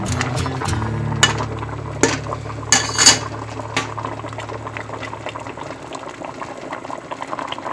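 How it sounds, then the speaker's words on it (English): A pot of homemade potato soup heats on high toward a boil, giving a steady bubbling rumble close by, broken by a few sharp clinks of metal utensils against the pot near the start and middle. "and at this point it's just on high to bring it to a boil"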